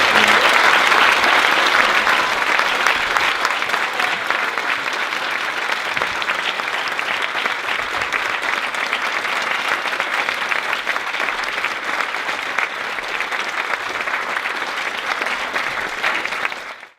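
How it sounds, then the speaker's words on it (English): A live audience claps steadily in sustained applause at the close of a talk, a dense, even wash of many hands that holds at full strength throughout and then cuts off abruptly at the end. "Let's give Rupert a huge round of applause."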